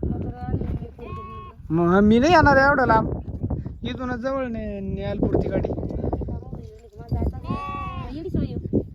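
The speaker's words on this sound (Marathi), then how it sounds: "आता मेंढ्या कुठं चालल्या" Sheep bleat loudly and repeatedly at close range among a herd, mixed with people talking throughout.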